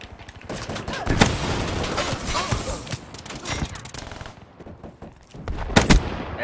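Rifle gunfire in Black Ops 3 comes as loud, close bursts of rapid tapped shots in the multiplayer game, with short pauses between volleys and a quieter stretch before a final burst.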